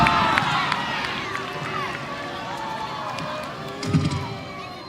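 A football stadium crowd at a Northern Super League women's match in Montréal, a dense, roaring wash of voices and shouts in stoppage time, with whistles and a louder surge near the end.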